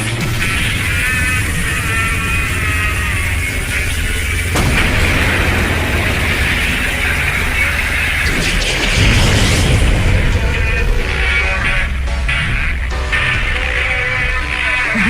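A loud explosion sound effect in a dramatic action scene, with heavy booming blasts and rumbling debris that shifts in intensity throughout.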